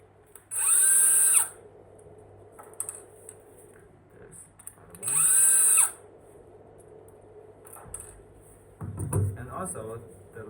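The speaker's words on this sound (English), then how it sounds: "just undo those 4 screws" A cordless drill or power screwdriver backs out screws from a Floatwheel ADV2 electric skateboard BMS in two loud whirring bursts of about a second each, separated by quieter handling clicks, with a clunk near the end.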